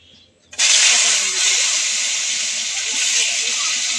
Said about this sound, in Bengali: লবণ মেখে এখন ভেজে নেব